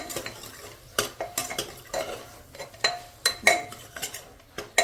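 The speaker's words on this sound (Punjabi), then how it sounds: "ਲੋ ਪਾਤੀ ਹੈ ਘਿਓ ਤੋਰੀਆਂ ਇਹਨੂੰ ਕਰਾਂਗੇ ਮਿਕਸ" Ridge gourd being stirred into cooked red masala in a pan: repeated sharp clinks and scrapes of a spoon against the pan in an uneven rhythm, close and fairly loud, with a faint sizzle underneath.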